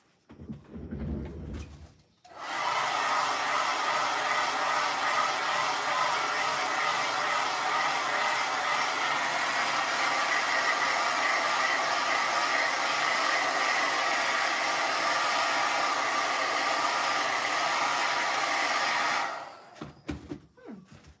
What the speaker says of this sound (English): This is the last round with the hair dryer.